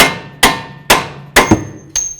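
Hammer blows knocking the front strut bolts out of a 2008-16 Chrysler Town & Country, five sharp metallic strikes close up and loud, spaced about half a second apart with one quick double hit, no talking.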